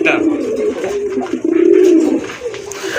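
Pigeons offered for sale give a close, steady low cooing in rolling, throaty phrases, with a brief pause midway before the cooing resumes.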